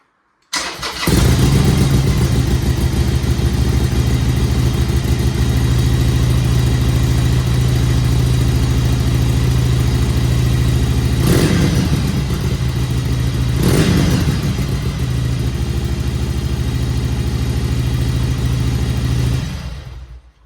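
A Harley-Davidson 883 Iron motorcycle with its stock exhaust fires up and idles loudly for nearly twenty seconds, with two short revs near the middle before it cuts off.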